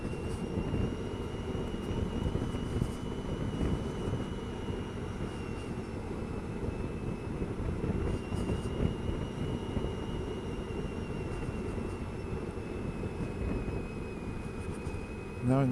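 A Honda ST1300 motorcycle rides through a steep mountain pass, its engine a steady droning hum under constant wind rush that continues without a break for the whole stretch.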